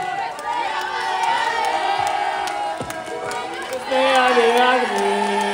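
A festival audience at a cosplay parade during the Troyes Japan Otaku Festival 2025 cheers and whoops loudly and steadily, a crowd roar swelling near the end while a voice talks over it.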